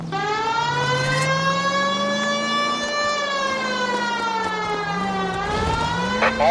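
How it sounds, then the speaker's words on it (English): A police car siren wails steadily in the L.A. Noire video game, a loud sweeping tone rising and falling over a running car engine, with no talking. "we've got a siren for a reason"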